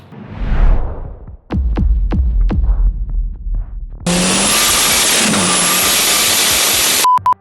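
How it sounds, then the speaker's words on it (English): A 1981 Volkswagen Rabbit truck, a twin-engine all-wheel-drive build, fires up loud and close after a few sharp knocks, then settles into a steady, unbroken running drone that cuts off abruptly at the end. "Introducing our 1981 twin-engine all-wheel drive Volkswagen Rabbit truck."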